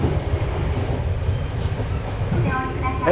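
A Sangi Line train runs through rural Mie with a steady rumble of wheels on rail heard from onboard, a faint squeal rising near the end, and someone talking over it.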